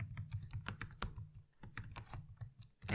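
Rapid, irregular keystrokes on a computer keyboard while typing code, close and clear, with short pauses between bursts and no voices.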